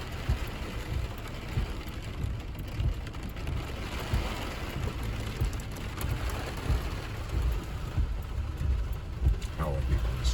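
Rain patters on a car driving through wet San Francisco streets, with a constant low road rumble and hiss of water beneath scattered drops, fairly quiet overall.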